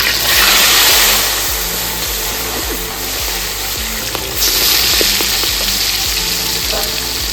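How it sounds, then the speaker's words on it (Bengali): Katla fish pieces frying in hot mustard oil in a kadai, a steady loud sizzle and crackle running throughout with occasional pops and clinks, no talk. "তেল গরম হয়ে গেছে, এবার মাছগুলো ভেজে নিচ্ছি।"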